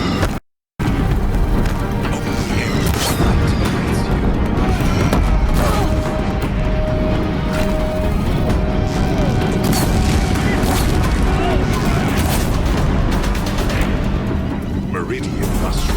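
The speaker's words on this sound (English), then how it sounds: "If the Deathbringers keep firing," Deathbringer war machines firing on a bridge during the final battle of Horizon Zero Dawn: a dense, continuous roar of booming blasts, crashes and mechanical clatter, loud and sustained throughout, mixed with voices.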